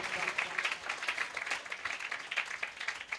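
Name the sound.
congregation clapping loudly for the Lord at a church service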